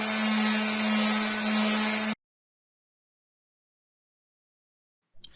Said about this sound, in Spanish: con la ayuda de la lijadora de mano le saco el recubrimiento antiguo